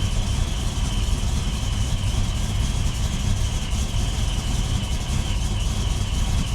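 A freshly rebuilt car engine idles steadily with a low, even rumble and a faint whine above it, loud and close throughout with no talking.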